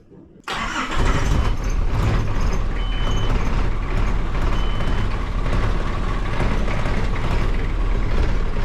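A 1992 Nissan Atlas truck with a TD23 diesel engine cranks and fires almost instantly, then settles into a loud, steady, rumbling idle that continues close by and unbroken.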